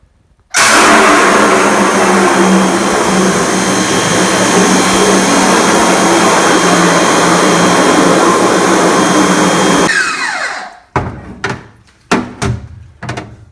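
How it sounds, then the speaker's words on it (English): A power washer blasts a screen-printing screen in a loud, continuous, close roar for about nine seconds, then cuts off, leaving a few scattered knocks and clatters. "in speeding production up, I'm going to go with the trusty power washer"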